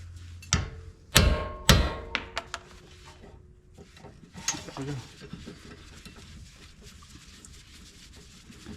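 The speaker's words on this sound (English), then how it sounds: "A few hits with a hammer and that's out." A few sharp metallic knocks of a hammer driving out a rotor ring out near the start, then fainter clinks and scraping of metal parts being handled.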